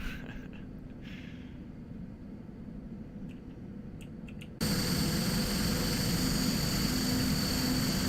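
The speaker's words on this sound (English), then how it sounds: "I love the noise of the feathered props." Feathered propellers of a King Air 350 turboprop in flight, a steady low airscrew drone that jumps abruptly to a louder, brighter whooshing roar midway and holds there, continuous and close.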